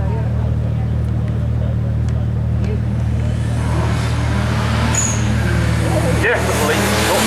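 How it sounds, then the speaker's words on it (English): A turbocharged 1976 Fiat 127 runs at the Brighton Speed Trials with a steady engine drone and a hum that builds louder midway, while a commentator talks over it. "It's a Fiat Feisty 127. It's turbocharged, 1976."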